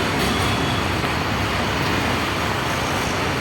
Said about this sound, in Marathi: रिक्षा भेटली आता, रिक्षामध्ये बसून चालली आता घरी.